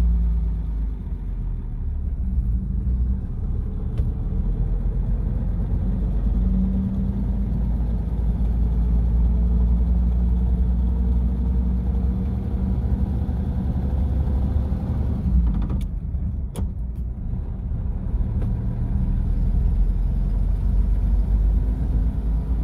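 A 1937 Plymouth Coupe barn find engine running while driving in first gear, a steady close low rumble with rising and falling engine tones through the whole stretch and a brief clatter midway, no talk.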